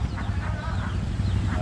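Chickens cluck softly in short repeated bursts at a roadside poultry market, against a steady low hum of outdoor background noise.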